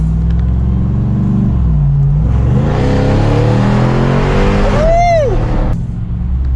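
A Ram TRX pickup truck engine with stock resonators rumbles low, then revs up with a rising roar and quick whine before settling; a voice is briefly audible over the exhaust.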